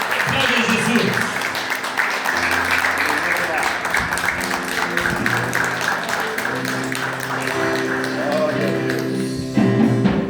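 A church congregation claps steadily and densely for about ten seconds, with voices and sustained tones running beneath the applause throughout.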